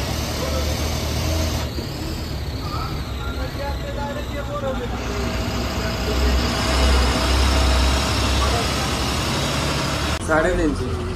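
A Maharashtra ST state transport bus pulls away from Kankavli on its way to Borivali, its engine a steady low rumble throughout with a hiss near the end and faint voices in the background.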